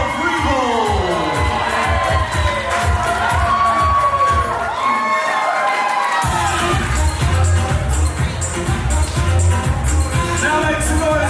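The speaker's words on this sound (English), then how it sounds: "Now your bridesmaids and groomsmen, make some noise for Sam Otten and Bill Friebel." At a wedding reception a crowd cheers, whoops and shouts loudly and continuously as the bridal party is announced into the room, with brief announcing voices mixed into the roar.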